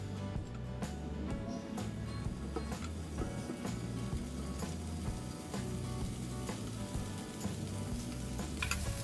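Vegetable rings for an egg-and-vegetable dish frying in a lightly oiled pan over medium flame, a continuous close sizzle with crackling pops and occasional light ticks throughout, no talking.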